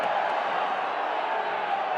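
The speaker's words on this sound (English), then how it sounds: "the crowd continues to hoot and holler" Football stadium crowd at a USL Championship playoff match between Louisville City FC and Charlotte Independence, a loud, sustained roar of hooting and hollering with no break.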